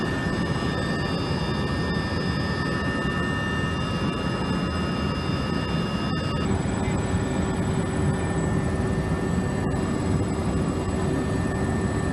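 A Caracal military helicopter of the Indonesian Air Force flying a search mission, heard from inside the cabin as a steady, loud engine and rotor drone with a constant whine, no talk.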